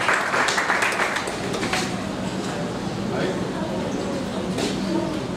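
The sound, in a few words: audience applause welcoming poet Aizaaz Shahin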